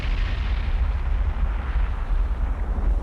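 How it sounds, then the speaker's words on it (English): An enemy ship's deck gun fires on a submarine in the Cold Waters naval game. It comes across as a loud, unbroken, rumbling barrage of booms and bursts that lasts throughout, with no talking. "he's firing at me with his gun"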